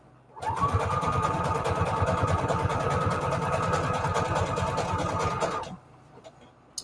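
A sewing machine stitching paper junk journal signatures runs steadily for about five seconds with a fast, even mechanical whir and rapid needle beat, close and clear, then stops abruptly.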